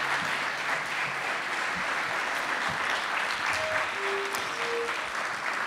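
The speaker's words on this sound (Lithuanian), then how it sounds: "Taip, kad griausmingais plojimais" An audience applauds at a concert evening, sustained dense clapping from a crowd filling the room evenly, with a few faint tonal sounds and voices mixed in underneath.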